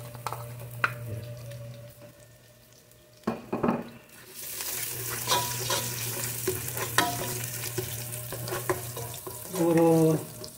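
Ginger and then garlic hitting hot oil in a pan, a bright continuous sizzle that swells after a pause, with spatula stirring clicks and a brief burst near the end, close up and without talk.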